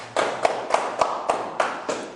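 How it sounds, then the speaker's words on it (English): A comedy club audience gives a comedian a few sparse, evenly spaced claps, about seven distinct hand claps in a steady rhythm, fairly quiet and close by. "Y'all clap for that."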